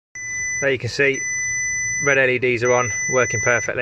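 Steady high-pitched electronic beep tone sounding continuously while someone talks over it up close.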